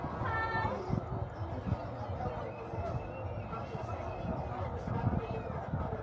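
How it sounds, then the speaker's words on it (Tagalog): Stray cats meowing at a feeding spot, with a few high, tonal meows near the start over steady crowd-like chatter and background noise throughout. "Nandiyan na yung mga pusang gala."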